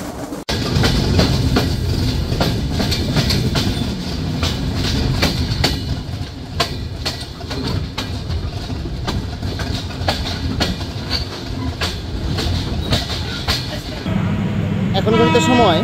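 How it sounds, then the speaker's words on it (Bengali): The Silk City Express, running from Rajshahi toward Dhaka, rolls into Abdulpur Junction with a steady, rhythmic clickety-clack of wheels on rail joints, loud and close, under a person talking. "ট্রেনটি নির্ধারিত সময়ে আব্দুলপুর জংশনে এসে প্রবেশ করলো।"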